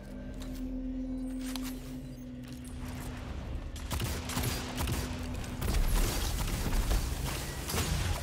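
Gunfire in the Destiny 2 video game during a two-versus-two match, a dense crackle of shots over game machinery sounds that grows busier and louder toward the end.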